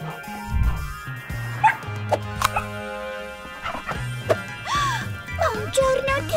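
Cartoon dogs in an animated children's show yipping and barking in short bursts over playful background music, with some whimpering and squeaky, high-pitched cries mixed in.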